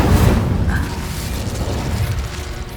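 A Confringo fire spell explodes in Hogwarts Legacy combat, a heavy, close boom at the outset that rolls into a rumbling, crackling tail slowly fading over a few seconds.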